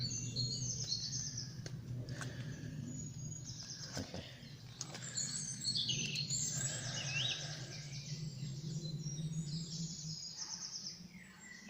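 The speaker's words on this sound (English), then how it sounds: "So I'm getting attacked by birds." Outdoors on a nature walk, birds call and chirp repeatedly, with high twittering phrases over a low steady background hum and a brief spoken word.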